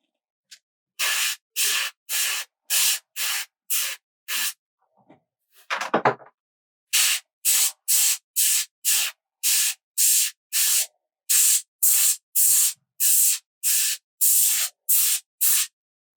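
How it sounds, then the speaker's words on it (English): An airbrush sprays ink at about 15 psi in a long series of short, evenly spaced hissing bursts, with a brief rattling handling noise partway through, close and fairly quiet. "I'm actually going to turn the pressure down slightly"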